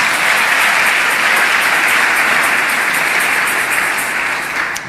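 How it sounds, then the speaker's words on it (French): Loud, sustained applause from a large church congregation during a sermon, dense clapping that holds steady for several seconds and eases slightly at the end. "Acclamez pour vous."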